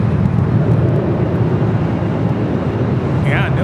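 A Boeing 737-900ER airliner rolls down runway 24 left at LAX on its takeoff run, a loud, steady rumble of jet engines with broadband roar that holds throughout, heard from a distance.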